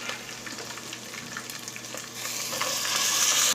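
Meat sizzling and frying in a pan with garam masala for lauki gosht, a steady close crackle and hiss that grows slightly louder toward the end, with no talk.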